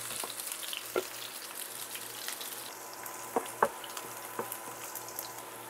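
Chopped onion sautéing in a pan after golden-browned garlic, a quiet steady sizzle broken by a few soft crackles and pops, with no voices.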